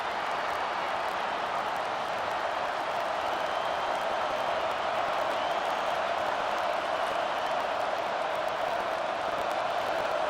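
Home crowd in the College Football 25 video game, LSU vs UCLA, roars in a stadium as the defense faces third down: a dense, unbroken wash of cheering noise held at a steady level throughout.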